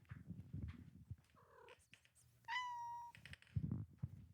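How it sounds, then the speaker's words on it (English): A pet cat named Billy gives a short series of clear, rising meows followed by a sustained tonal call, with soft purring and low rumbling between them, close to the listener in a home music studio. "My cat's here."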